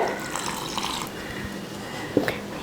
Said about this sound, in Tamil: இதில் ஒரு பவுல் தண்ணி ஊற்றி ரவையை அரைச்சாச்சு